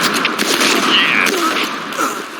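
Rapid gunfire and shotgun blasts in the online shooter Point Blank, loud and close, a burst of overlapping shots with mechanical clatter, briefly easing toward the end before a final sharp shot.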